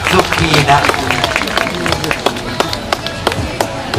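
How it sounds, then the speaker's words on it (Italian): Crowd claps at an outdoor horse fair in Varzi as three riders are honoured. Sharp, close hand-claps scatter irregularly beneath someone talking over a loudspeaker. "Un grande applauso a Chiara, Barbara e Cristina"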